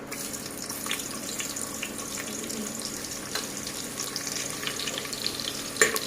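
Curry leaves and onion fry in hot oil for tempering in a pressure cooker, a moderate steady sizzle with crackles and small pops, plus a stirring clink near the end.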